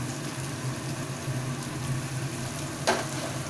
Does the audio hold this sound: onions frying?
yes